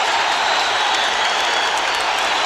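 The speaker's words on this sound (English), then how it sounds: "The crowd standing on its feet here" A boxing arena crowd at the Holyfield v Foreman heavyweight fight roars and cheers steadily after a round, a dense, loud wash of voices and applause with no distinct speech.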